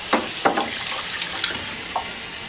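Manitowoc ice machine components are rinsed under running tap water, a soft continuous stream broken by several brief splashes and gurgles as parts pass through the flow.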